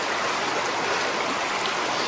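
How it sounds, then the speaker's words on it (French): A spring-swollen stream near Lac Mégantic, widening into a torrent, rushes steadily with a dense, even hiss of flowing water and no voices. "ce ruisseau s'élargit et devient un torrent."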